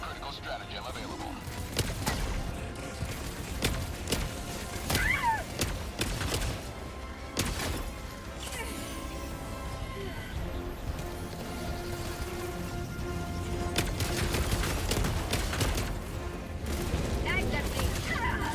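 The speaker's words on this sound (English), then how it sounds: "Firing orbital strike." Orbital strike explosions in Helldivers 2, a dense battlefield barrage of repeated sharp blasts and booming impacts with gunfire, over continuous busy combat noise, loud and near throughout.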